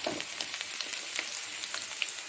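Mustard seeds spluttering in hot oil with grated ginger in a pan, a steady close crackling sizzle with scattered sharp pops throughout, no talking.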